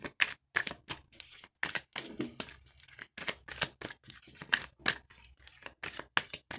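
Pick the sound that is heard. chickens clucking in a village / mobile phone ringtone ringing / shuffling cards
shuffling cards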